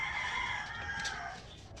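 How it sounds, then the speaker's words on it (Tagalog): A rooster crows at a yard in the open, a sustained loud call over steady outdoor background. "Yan, manok. May manok ko dyan guys."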